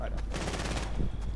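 Gunfire in the Fortnite video game, a quick burst of several sharp shots in rapid succession, loud and close, with a voice speaking over it.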